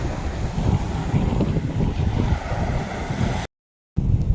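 Steady gusting wind buffets the microphone over a low rumble of surf on a mangrove seashore, continuous and fairly loud, cutting out briefly near the end before resuming.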